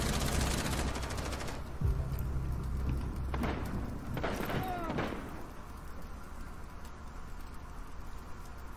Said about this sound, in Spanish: Esa metralletica de ese, ¿cómo es que se llama, tío? De Mute